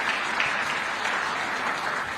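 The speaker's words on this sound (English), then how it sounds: "Can we clap for ICT?" Steady applause from a conference audience, a dense continuous patter of clapping at moderate loudness with no voices.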